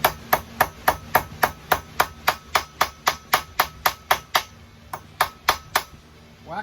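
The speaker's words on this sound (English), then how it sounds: "Whack the bend out of it." A small jeweller's hammer strikes a bent gold ring blank on a hard surface, about twenty sharp metallic taps in a brisk, even rhythm with a brief pause near the end, close and loud.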